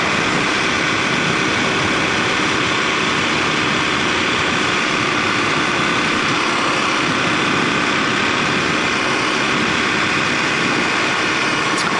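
A Kawasaki KLX250SF supermoto motorcycle engine runs steadily while riding on a rough road near Thunder Bay, a continuous loud drone with wind rush, no pauses and no voices.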